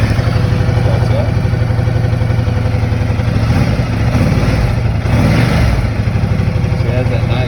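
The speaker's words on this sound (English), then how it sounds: "Press button. Starts up." A 2016 Ducati Multistrada motorcycle engine runs steadily at close range with a deep, pulsing low rumble and a slight rise in revs midway through. The sound is continuous and loud, with no pauses or trailing off.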